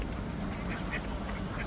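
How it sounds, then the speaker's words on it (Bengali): Ducks quack faintly and intermittently at a pond, distant calls over a steady outdoor background hiss. "হাঁসগুলো"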